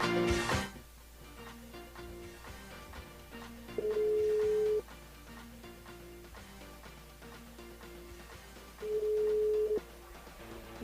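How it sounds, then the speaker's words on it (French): Phone line tones heard live on air during a radio show broadcast: steady repeating beeps over a low hum, with two longer, louder sustained tones that each last about a second. "répond au téléphone"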